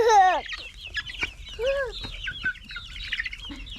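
Several backyard chickens clucking and squawking nearby, a quick string of loud rising and falling calls with short pauses between them, with no talking.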